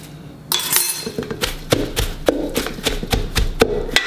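Cabbage with cilantro and turmeric crushed by hand in a bowl, giving repeated sharp tapping and clinking knocks against the bowl in an uneven rhythm, close and moderately loud.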